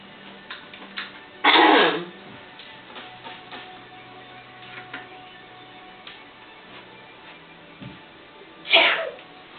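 Two loud, sharp sneezes from a person in a beginner's pole dance class, the first near the start and the second near the end, with quiet room noise and faint ticking between them.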